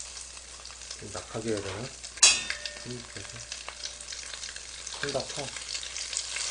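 Pollock jeon pancakes fry in a pan with a steady close sizzle and occasional stirring clatter, while a voice speaks intermittently over the cooking.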